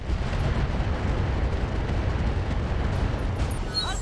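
MRM missile barrages in RogueTech pound a mech as a dense, steady roar of overlapping blasts that stays loud and unbroken for several seconds.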